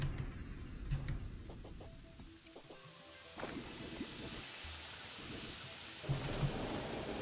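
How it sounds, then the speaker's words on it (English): Rain hisses steadily while rolling thunder rumbles low in the game Terraria with the Calamity mod, faint and distant, with a few soft thuds. "What's a rain? It's like snow,"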